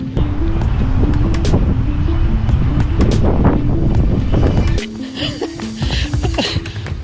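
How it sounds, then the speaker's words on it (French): Wind gusts buffet a kayak sail on the Canal du Midi, a loud rumbling roar against the microphone that eases off partway through, with some light knocks and rustles. "Quand le vent se prend dans la voile, ça me fait même courir."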